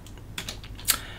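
A terminal command typed on an ArcoLinux computer keyboard: a few separate, crisp key clicks at an uneven pace, close by and fairly quiet, with no talking.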